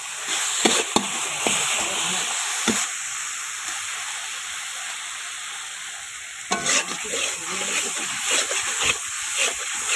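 Chicken pieces sizzle and fry in a pot for chicken khichuri, a steady broadband crackle with sharp clatters of stirring near the start and a busier burst of scraping and spattering later.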